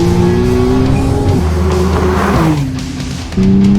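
A McLaren Artura supercar engine on a racetrack revs hard and steady, shifting pitch as it changes gears, with a brief drop and then a sharp climb back up.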